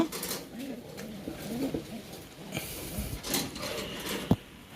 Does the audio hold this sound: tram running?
no